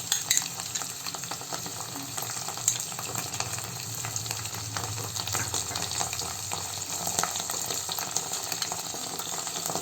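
Chilli sauce and tomato ketchup fry gently in a pan over a low flame for baby corn Manchurian, giving a soft, steady sizzle with faint stirring scrapes and no talk.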